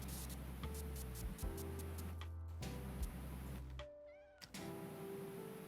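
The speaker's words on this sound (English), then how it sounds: "I hear you up there, cat." A cat meows repeatedly during a Powerwash Simulator 2 gameplay session, the cries standing out over a steady low game hum and tonal in-game sounds, with no talking.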